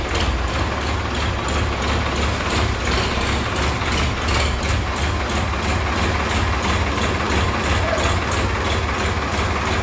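An old Massey tractor idles nearby beside a house wall, its diesel engine giving a steady, loud low rumble with a regular pulsing beat throughout and no talk.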